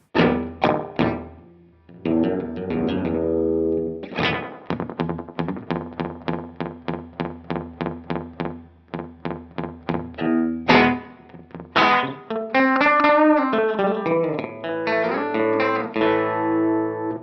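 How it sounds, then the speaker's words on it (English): An electric guitar plays plucked notes and chords through a Mosky Blue analog delay pedal, repeats smearing together into a washy, reverb-like tail. "you always get a reverb type sound if you go all the way down"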